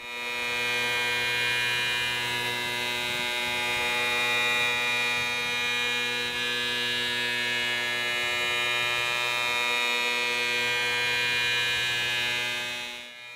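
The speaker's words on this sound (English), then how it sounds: "Roughing out this side with a 3D adaptive and our standard 3/4 inch shear hog." A Pocket NC 5-axis CNC mill roughs a part with a 3D adaptive toolpath and a 3/4 inch shear hog cutter, giving a steady, loud, continuous tonal whine and hum with no talk.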